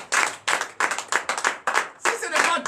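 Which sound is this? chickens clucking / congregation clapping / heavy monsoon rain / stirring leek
congregation clapping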